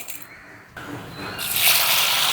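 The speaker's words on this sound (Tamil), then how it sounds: "அரிசியை வடிவாக கழுவி எடுப்போம்." Water runs from a tap onto raw rice being washed for Jaffna-style chicken rice porridge: a quiet start with small splashes, then a steady, growing gush as the water flows in.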